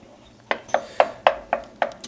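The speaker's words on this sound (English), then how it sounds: "Stir it." A spoon clinks against a pot of tomato sauce six times in a steady rhythm, each short tap close and fairly loud over a quiet kitchen background.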